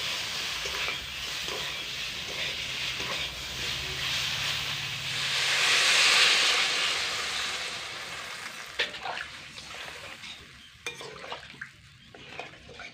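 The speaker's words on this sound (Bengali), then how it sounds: "এবার ঝোলটাকে বেশ ভালো করে ফুটিয়ে নেব" Fish curry gravy with soybeans and potatoes bubbling in a pot, a continuous hiss and simmer that swells midway, then gives way to a few clinks and stirring sounds.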